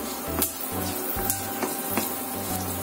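Fenugreek seeds crackle in hot mustard oil in a pan, a steady close sizzle with faint pops and short sharp ticks scattered throughout, with steady background hum underneath.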